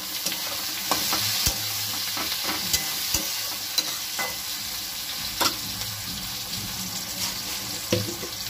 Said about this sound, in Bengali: তেলের মধ্যে আমি পেঁয়াজ কুচুনো দিয়ে দিলাম।